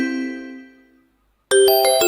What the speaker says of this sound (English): here you will get this type of notification.